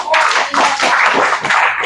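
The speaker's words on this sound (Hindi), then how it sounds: "थैंक्स और ताली बजा देने के लिए।" An audience claps together in a short burst of dense, steady applause at an Indian motivational class gathering. The clapping is loud and close, with no one speaking over it.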